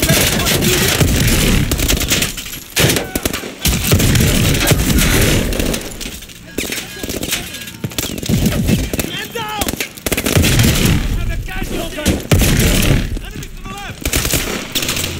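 Heavy sustained gunfire from an armored turret in Call of Duty: Advanced Warfare, dense rapid bursts with short gaps, loud and close throughout, with shouted voices mixed in.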